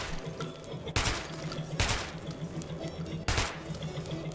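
Gunshots ring out at a shooting range: three loud, sharp reports spaced about a second apart, each with a short echoing tail over a low background hum.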